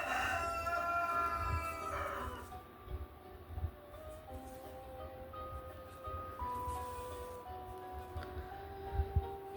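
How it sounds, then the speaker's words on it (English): A rooster crows in bursts at a distance, its calls rising over a steady outdoor background. "Please forgive my rooster."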